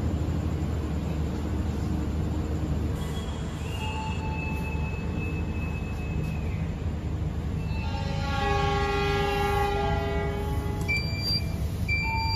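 Taksaka passenger train pulling out of Kroya station at night, a continuous loud rumble of rolling cars with a long whistle-like tone and rising metallic wheel squeals later on.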